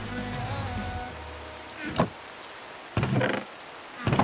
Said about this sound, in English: Oh, it's thunder. It's a thunderstorm.